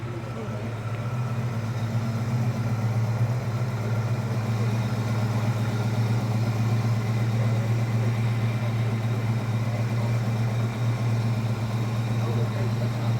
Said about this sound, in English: What a beautiful sound. And I got to check the engine out.